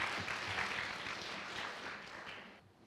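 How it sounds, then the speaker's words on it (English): Brief, fairly faint applause from an audience at a Three Minute Thesis competition, a dense patter of clapping that gradually fades away. "So round of applause for you guys"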